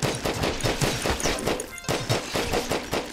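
Pistol gunfire in the sci-fi survival game GRAV, a rapid run of close, loud shots in quick succession, with a brief gap partway through.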